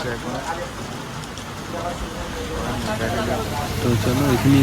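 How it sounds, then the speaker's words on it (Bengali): Rain falling steadily outdoors during a Sunday ride, a continuous broadband patter that swells slightly louder toward the end, with no talk over it. "বৃষ্টি হচ্ছে এখন।"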